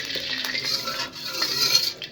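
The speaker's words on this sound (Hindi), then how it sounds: "चारों तरफ हम तेल फैला लेंगे चम्मच की मदद से।" A metal spoon scrapes and clinks around the inside of a kadhai, spreading two spoons of oil across the pan; light, brief scraping and tapping strokes close by, with no talk.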